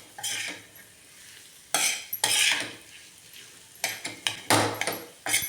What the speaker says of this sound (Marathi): आता व्यवस्थित चटणी परतून घेऊया.